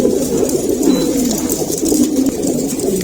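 A group of eight pigeons, five hens and three cocks, coos continuously and densely up close, a steady overlapping murmur of calls with no talking.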